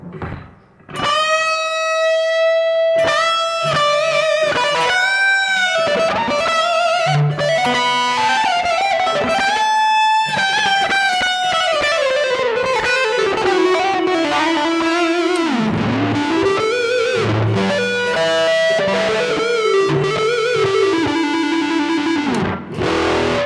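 A heavily distorted electric guitar through a BOSS eBand JS-10 plays a continuous melodic line, its fuzzy, saturated notes trailing into echoing delay repeats, loud and up close.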